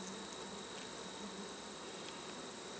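A steady, low buzzing of many honey bees around an open hive, continuous and fairly quiet, with no voices.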